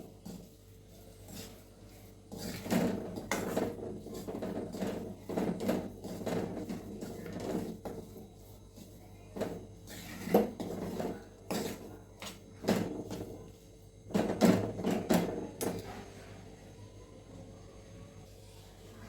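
Jaggery and roasted flour are stirred together in a pan for sukhdi, producing rhythmic scraping bursts of a spoon against the metal that repeat steadily at close range, without speech.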